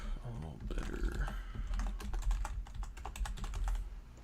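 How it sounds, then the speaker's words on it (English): Rapid clicking keystrokes on a computer keyboard, fairly quiet and close, with a voice briefly audible near the start. "Do y'all like the typing?"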